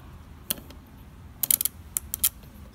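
Clicking from the printing mechanism of an old mechanical calculator as it runs through a cycle: a single sharp click, then a quick irregular cluster of close, crisp mechanical clicks over a quiet background.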